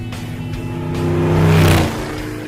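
A 1985 C4 Corvette kart drives on a highway. Its close engine drones and revs up into a brief louder surge, then settles back, with passing road noise.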